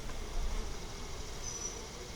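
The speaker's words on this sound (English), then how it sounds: "it being as many bees as in here, they're a little bit excited" A big swarm of excited honey bees drones in a dense, continuous buzz, close and steady throughout, with no talking.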